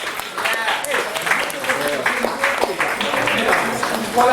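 Crowd applause at a secondary school reunion gathering, steady clapping throughout with voices talking over it.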